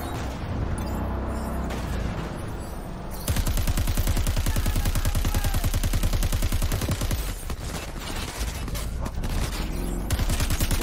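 Rapid sustained gunfire from the video game Crackdown 3, a dense fusillade of automatic shots that grows louder and more continuous partway through, with booming bursts and no talking.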